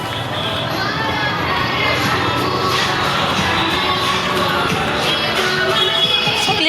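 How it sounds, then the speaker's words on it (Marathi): Dense, continuous crowd noise at a temple on Shivaratri, with many voices, children shouting and shuffling feet blending into a loud, steady clamour throughout. "बघा गाईज किती गर्दी आहे बघा गाईज."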